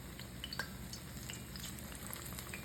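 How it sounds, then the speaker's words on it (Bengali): Pakoras fry in oil in a kadai with a steady, faint sizzling crackle and scattered small pops throughout, no voices over it. "এই ধরনের কড়াইতে পাকোড়া ভাজতে ভালো লাগে"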